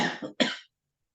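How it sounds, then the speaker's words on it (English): Two short, harsh coughs in quick succession, close and fairly loud, followed by silence. "how poorly timed of a cough to attack you in the middle of a recording"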